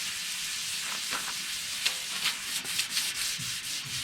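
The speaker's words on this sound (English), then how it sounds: "It doesn't take a lot to scuff this up." Abrasive scuffing across a C10 truck's body panel before priming, a steady close, hissy rubbing with a few brief sharper strokes and no talk.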